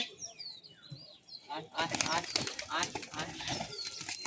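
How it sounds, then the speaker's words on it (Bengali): A pigeon flaps its wings in a few soft, fluttering bursts over faint background noise, quiet and somewhat distant. "দেখতে পাচ্ছ সাংঘাতিক খেলা পায়রাটার"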